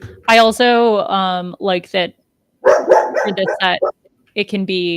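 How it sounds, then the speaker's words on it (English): Dogs bark indoors in a series of loud, close, harmonic yelps and barks in bursts, with a gap partway through, mixed with a little talking. "Sorry if you can hear the dogs barking."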